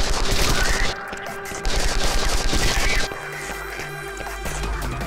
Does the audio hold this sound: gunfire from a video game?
yes